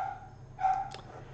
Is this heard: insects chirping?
no